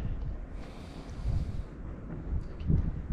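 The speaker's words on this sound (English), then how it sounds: "Pretty windy." Wind gusts outdoors at a worksite with a broken CAT 365 hydraulic cylinder, producing a steady low rumbling buffet on the microphone that swells and eases, with no talking.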